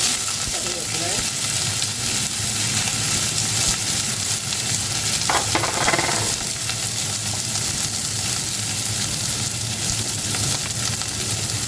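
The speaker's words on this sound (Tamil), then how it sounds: "பெருஞ்சீரத்தையும் வெந்தயத்தையும் போடுவோம் அதோட வெங்காயம் பச்சை மிளகாயும் சேர்த்து" Fennel seeds, fenugreek, onion and green chili fry in hot oil in a pan, giving a loud, constant dense sizzle with a brief stirring clatter near the middle.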